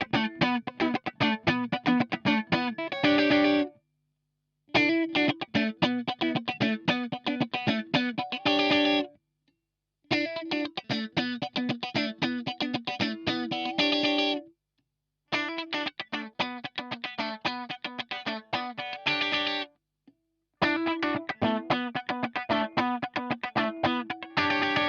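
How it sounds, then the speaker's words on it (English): A budget Strat-type electric guitar with humbucker pickups and a heavily distorted tone plays repeated riffs and chords in several takes, each phrase separated by a brief silence. "I really like these pickups and I think they sound quite nice, even with distorted tones."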